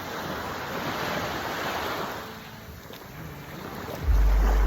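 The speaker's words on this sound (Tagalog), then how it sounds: "medyo malakas na yung alon mga kap. Kasi pa ano na, low tide." Heavy surf of strong ocean waves at low tide in Eastern Samar crashes and washes continuously while wind buffets the microphone, ending in a loud low rumble.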